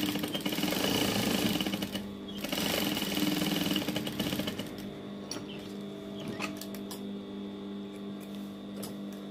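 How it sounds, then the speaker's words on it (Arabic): Sewing machine stitching a dress for a baby girl, running in fast bursts of loud rapid whirring stitches, then quieter lighter clicking and handling noises toward the end. "غادي نكبروا الغرزه ديال الماشين"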